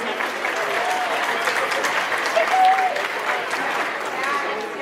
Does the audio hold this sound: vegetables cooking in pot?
no